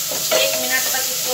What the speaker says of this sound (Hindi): देखिए लहसुन अदरक का पेस्ट डाल दीजिए, इसको भून लीजिए हल्का